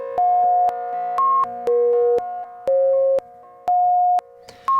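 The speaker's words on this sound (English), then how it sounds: "So now we're just hearing delay 1 and delay 2." The Kajita Multi Tap Delay app plays only its delay 1 and delay 2 taps: clean sustained synth tones step between pitches, each cut by sharp clicks, with repeats trailing off behind.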